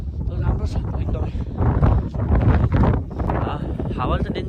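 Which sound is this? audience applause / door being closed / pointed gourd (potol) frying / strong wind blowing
strong wind blowing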